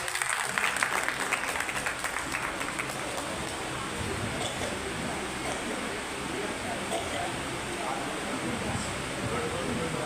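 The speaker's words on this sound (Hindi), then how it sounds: "मनकानी साहब के लिए भी तालियां बजा दीजिए।" A crowd applauds steadily at a Sindhi community gathering in Delhi for Partition Horrors Remembrance Day, the clapping a dense, continuous wash that holds at even strength throughout.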